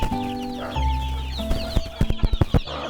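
Sussex chicks and hens in a coop make a loud mix of soft clucks and high chirps, ending in a run of sharper peeps at close range, with no voices.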